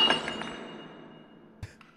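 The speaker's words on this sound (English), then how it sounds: "he reaches for the glass again and knocks it off the table" A crystal glass knocked off a table shatters at the very start, a bright burst of breaking glass with a ringing tail that fades over the next second or so, followed by a faint distant knock.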